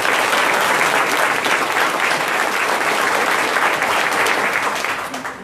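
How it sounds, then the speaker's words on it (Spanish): A crowd at a religious debate between a Catholic priest and a Pentecostal pastor gives loud, sustained applause, dense clapping that holds steady for about five seconds before tapering off at the end. "Recibamos de mano con un fuerte aplauso"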